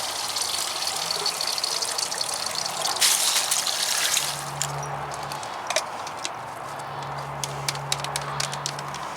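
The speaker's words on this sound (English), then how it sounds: "turn on this water, let it run through, and fill up our jug" Tap water runs steadily into a jug with a broad hissing gush, the flow shifting in tone partway through as the jug fills.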